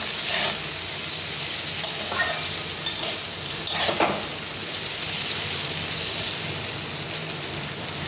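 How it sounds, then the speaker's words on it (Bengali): Leafy greens frying in a pan with potato and eggplant, a steady broadband sizzle with brief scraping stir strokes throughout, close and fairly loud with no talking. "এটাও একটু ভাজা ভাজা হবে।"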